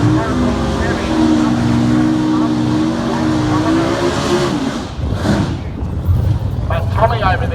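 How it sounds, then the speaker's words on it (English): A drag racing car runs down a street drag strip, its engine roaring loud and sustained before fading, with a second burst of revving near the end and voices talking over the noise. "Down the drag strip and again down the start line."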